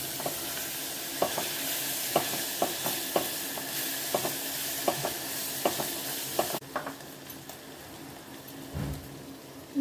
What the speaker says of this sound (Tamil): இஞ்சி பூண்டு பேஸ்ட் போட்டுக்கிறதுனால வதக்கிறது சீக்கிரம் வதக்கிட்டே இருக்கணும்